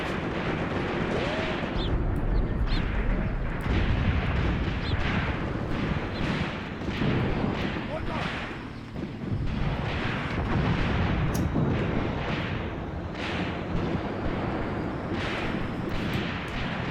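Howitzers in a World War II desert battle video game pound away through a dense, loud, continuous barrage of booming shots and rumbling explosions, with hardly a pause.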